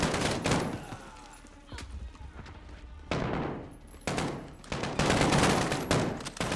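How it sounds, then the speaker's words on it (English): Dense rapid gunfire from the Call of Duty Modern Warfare campaign, with loud bursts and sustained volleys separated by brief lulls, mixed with game effects and people talking over it. "What are you guys shooting at?"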